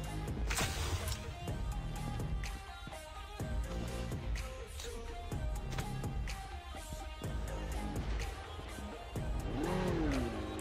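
Motorcycle engine in the Call of Duty Mobile battle royale game, a loud continuous revving drone that rises and falls with acceleration, layered over other game sounds and effects throughout.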